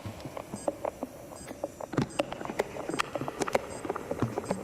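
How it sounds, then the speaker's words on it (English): A credit card scraped across dry moss gives a close, irregular run of crisp crackles and tiny snapping clicks, quick and uneven, over a low background hiss. "That is me using a credit card on moss"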